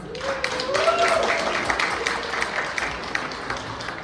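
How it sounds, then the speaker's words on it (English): Round of applause at an awards gala as Colleen is called up, scattered hand claps from the audience under a voice and a brief whistle or cheer early on, moderately loud. "The gorgeous Colleen, a round of applause."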